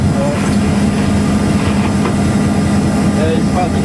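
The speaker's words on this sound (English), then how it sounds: "There's a rail train there." A train cab rumbles steadily on the rails between Springfield and Cincinnati. The clattering roar is continuous and fairly loud throughout, with faint talk in the background.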